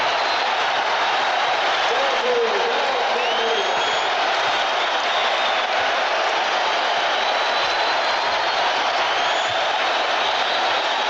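A basketball crowd at Madison Square Garden during a Bulls–Knicks game, a loud steady roar of cheering and applause filling the arena, with commentators talking over it.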